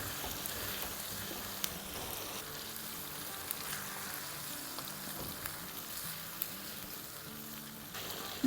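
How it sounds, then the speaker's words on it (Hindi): Chicken karahi frying with yogurt hisses and sizzles softly and continuously, with faint pops and light clicks from stirring scattered throughout; no voices. "अब दही के साथ भुनाई करेंगे।"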